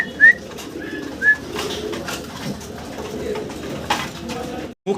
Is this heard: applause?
no